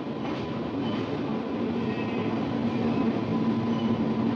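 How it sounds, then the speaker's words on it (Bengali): A train running straight through Gondia station without stopping, heard from on board as a steady, loud rumble of rolling wheels and carriage noise that continues throughout without voices. "দেখো গন্ডিয়া স্টেশনে কিন্তু দাঁড়ালো না আমাদের ট্রেন"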